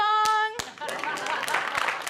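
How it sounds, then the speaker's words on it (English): Applause breaks out from a church congregation at a Unitarian Universalist Sunday service, following a sustained musical tone from the band; scattered hand claps build into dense, moderately loud clapping over about a second and a half. "just a round of applause for the music today"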